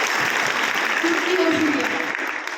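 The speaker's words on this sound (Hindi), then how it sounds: "एक बार जोरदार ताली अनीता मैम के लिए" Classroom audience applauding a teacher at an earthquake awareness session, dense continuous clapping from many hands throughout, loud and close, with voices mixed in.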